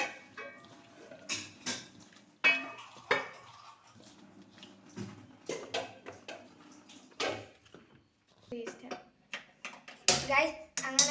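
Sliced potatoes being tossed by hand in a bowl for French fries, giving intermittent soft slaps and clinks of the dish in irregular bursts, close by, with a person talking in between.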